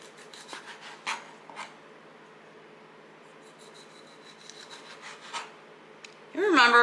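Knife slicing small tomatoes in a home kitchen, several soft close cuts and scrapes against a board, then a voice speaks near the end.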